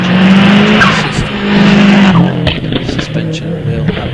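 A 2.5 litre turbo hillclimb race car with a TD05 hybrid turbo and upgraded suspension, wheels and brakes at speed on a British hillclimb course, its engine note loud and sustained with rising and falling revs.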